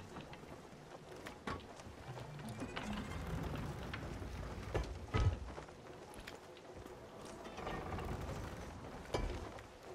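Mechanical ratcheting and clanking of a ship's cannon being aimed in the video game Sea of Thieves, with creaks and occasional thuds over a rumbling background.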